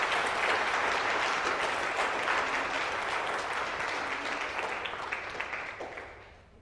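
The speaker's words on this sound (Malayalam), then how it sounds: "കൈയടിച്ച് കർത്താവിനൊന്ന് നന്ദി പറഞ്ഞു." A congregation claps hands in thanks to the Lord, a dense, steady round of applause from many people that holds evenly, then gradually fades out.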